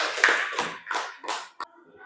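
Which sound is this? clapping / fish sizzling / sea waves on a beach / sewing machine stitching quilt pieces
clapping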